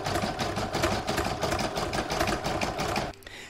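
A home embroidery machine stitches a large seashell design, its steady rapid mechanical whirr running continuously up close before stopping abruptly near the end.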